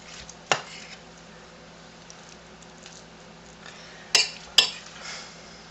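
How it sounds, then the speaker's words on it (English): A spoon scoops barbecue sauce and spreads it over food inside a soap mold, giving a few sharp, faint clinks of spoon against the mold over a quiet background. "Now I'm spooning it on to make sure I put it on even."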